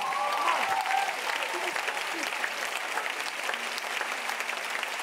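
An audience applauding and cheering at a church gathering, a dense, sustained wash of clapping with scattered shouts, while a voice talks loudly over it.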